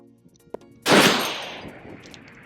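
A single loud .50 caliber gunshot from a Barrett M107A1 rifle fired at long range, 1 mile, a sharp close blast followed by a long rolling decay, preceded by a faint small click.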